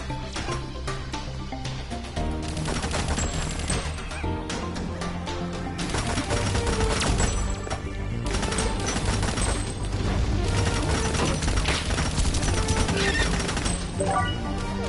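Gunfire in the video game Tamarin, rapid bursts of shots and crunching impacts layered over music and game effects, dense and continuous for the whole stretch.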